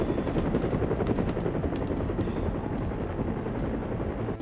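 Rapid bursts of automatic gunfire in a PS2 shooter game rattle on continuously, loud and dense, with a brief higher whoosh midway; no voices.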